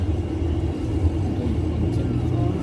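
Cars idle and creep along in a long traffic jam, a low continuous engine rumble heard from inside a vehicle, steady and moderately loud with no voices.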